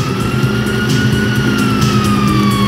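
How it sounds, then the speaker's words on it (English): Police sirens wail in GTA V, a loud steady rising-and-falling tone over a rumbling vehicle engine, with no talk over them. "you hear that? Sirens."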